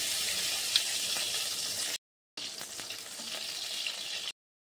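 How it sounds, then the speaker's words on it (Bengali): Ghee sizzles in a hot kadai while basanti pulao is prepared Bengali style, a steady bright frying hiss heard close that cuts out briefly before resuming. "কড়াইটা গরম হয়ে গেছে, এবার আমি তাতে পরিমাণ মতো ঘি দিয়ে দিচ্ছি।"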